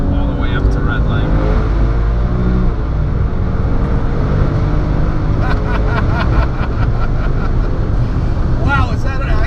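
A 760 WHP Porsche 997 Turbo Tiptronic engine roars loudly and steadily under acceleration, with a deep droning exhaust and rising tones, while people talk over it.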